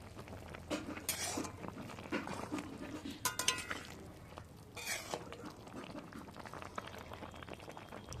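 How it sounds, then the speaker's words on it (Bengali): A pot of ridge gourd curry for a rohu fish dish bubbles on the stove while a utensil stirs it, with scattered metallic clinks and scraping against the pot over a steady, quiet simmer. "একটু নেড়ে চেড়ে নিই।"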